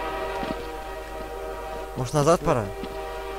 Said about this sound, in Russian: О, там поезд, слышишь, пробил.